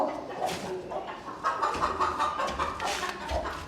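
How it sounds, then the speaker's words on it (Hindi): A rooster clucks repeatedly nearby in short, uneven bursts, with faint background noise around it. "देखो मुर्गा कहीं जा रहा है"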